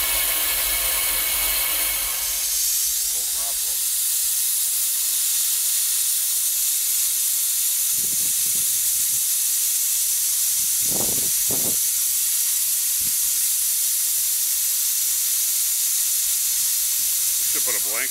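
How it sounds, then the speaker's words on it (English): Injectors on ATT&NW RR steam locomotive 801 hiss loudly and steadily through a test fire-up, a close continuous roar of steam with a few brief knocks and clanks underneath. "Testing the injectors here in the 801"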